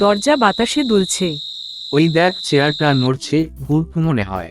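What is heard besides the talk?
crickets chirping at a house gate at night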